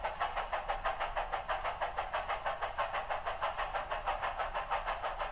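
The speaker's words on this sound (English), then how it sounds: "You'll hear the chuff re-engage, the snifter lift" A Tsunami2 sound decoder in a model steam locomotive plays a rhythmic chuffing exhaust, evenly spaced beats of hiss at a steady pace, with the snifter valve lifting. Moderately quiet and heard on its own.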